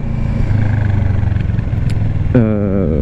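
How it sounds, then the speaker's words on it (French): A 2009 Kawasaki ER6N being ridden, its engine a steady low drone with a rising rev near the end, loud and close over wind rush. "Je roule avec une ER6N de 2009, donc pas d'ABS sur la moto"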